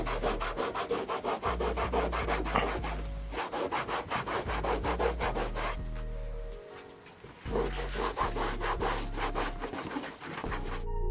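Adhesive is scrubbed off a surface with Turtle Wax adhesive remover, a fast back-and-forth rubbing that comes in steady rhythmic bursts with a brief pause midway, close and fairly loud, with a low hum underneath.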